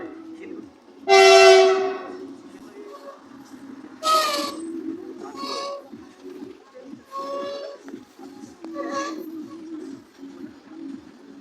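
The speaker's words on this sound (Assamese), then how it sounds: "আমি দেখিছেনে ট্ৰেইনৰ বাবে ৰ'ব লগা হৈছে এইয়া আমাৰ ট্ৰেইন" A train horn blasts loudly, then sounds again in shorter bursts as the train passes, with rumbling in between.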